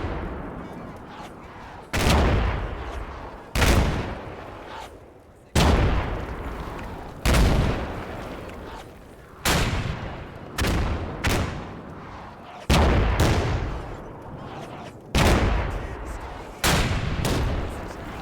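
Mortar barrage called in danger close onto a building roof in the Combat Mission Shock Force 2 war game: about ten loud, sharp explosions at irregular intervals, each with a rumbling decay, over a continuous low battlefield background.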